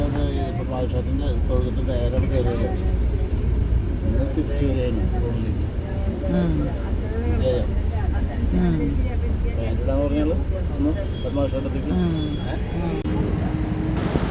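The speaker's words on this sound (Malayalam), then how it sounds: "ഭണ്ഡാരി എന്ന ഒരു ബസ്സാണ് കേട്ടോ ഇത്" A Bhandari bus travels along the road from the railway station toward a hotel in Tirupati, its steady low rumble continuing beneath people talking close by.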